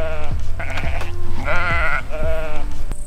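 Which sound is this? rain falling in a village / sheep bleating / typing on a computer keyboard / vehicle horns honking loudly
sheep bleating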